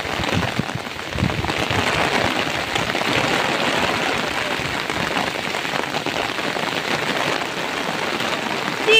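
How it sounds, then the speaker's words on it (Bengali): Heavy rain pouring in the Sundarbans, a dense, steady hiss of drops drumming on surfaces, loud and continuous from start to finish with no voices. "প্রচন্ড বৃষ্টি।"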